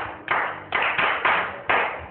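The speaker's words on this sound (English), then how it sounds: "Can you give him a round of applause?" Children clap in a school art club in short bursts, four or five quick rounds of close, bright applause with brief gaps between them.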